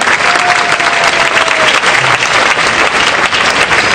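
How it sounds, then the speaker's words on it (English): Steady, dense applause from an audience at a devotional class fills the whole stretch at an even, loud level, with a brief vocal tone near the start. "Don't be shy clapping"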